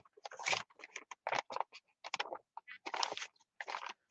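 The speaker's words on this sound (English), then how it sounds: "I love crunchy pages." Crunchy, stiff pages of a tissue paper journal being handled and turned: a quiet, close series of crisp crinkles and rustles in short irregular bursts with brief gaps between them.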